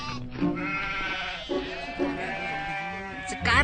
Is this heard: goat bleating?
yes